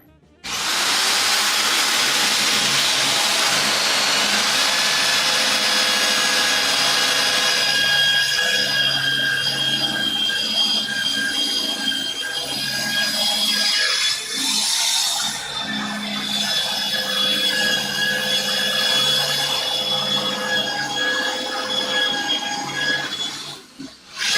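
A power drill with a fastener bit bores a hole through wood, a loud sustained whine that shifts pitch as it cuts, dips briefly midway, then winds down and stops.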